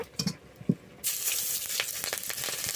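A slit green chilli, two bay leaves and chopped onion drop into hot oil left over from frying potatoes, bursting into a steady loud sizzle after a few soft clinks and taps.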